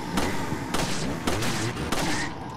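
Shotgun fired in Resident Evil 4, four heavy evenly spaced blasts roughly half a second apart, each with a short decaying tail, loud and close with no talk.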